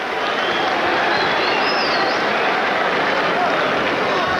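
A big basketball arena crowd at a Lakers game applauds in a dense, steady wash of clapping and cheering that fills the whole stretch.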